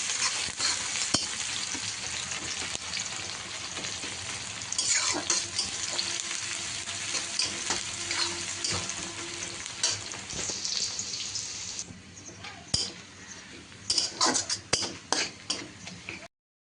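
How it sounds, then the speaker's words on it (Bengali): Chopped onions sizzle steadily in hot oil in a home kitchen, with frequent scraping and clicking as a utensil stirs them, loud and close. The stirring gets sparser and more distinct toward the end, with no talk. "তেলটা গরম হয়ে গেলে দিয়ে দিচ্ছি পেঁয়াজ কুচি, দিয়ে ভালো মতো নেড়ে চেড়ে বাদামি কালার করে ভেজে নেব"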